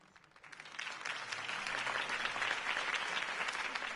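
Crowd applause following a campaign speech for Harvey Dent rises quickly and holds as steady, dense clapping from a large audience.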